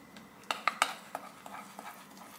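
A spoon stirring bowl cake batter made with skyr and coconut-flavoured whey, giving a run of light clinks and scrapes against the bowl, several sharp taps early on, then softer irregular strokes, close and without talk.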